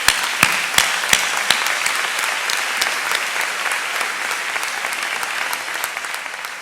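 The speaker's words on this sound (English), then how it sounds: "I think that deserves a round of applause." Audience applause fills a high school honors ceremony, a dense steady clapping from a large crowd with a few sharp louder claps near the start, holding on without talk.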